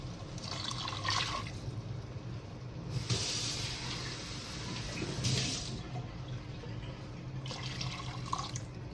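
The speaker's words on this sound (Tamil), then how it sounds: "ஸோ இப்போ தண்ணியை ஊற்றி" Water is poured into a cooking pan for chicken gravy, a soft steady hissing splash with a few brighter surges, fairly quiet and continuous throughout.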